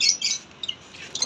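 Lovebirds chirping in short high-pitched bursts, a few quick tweets close by.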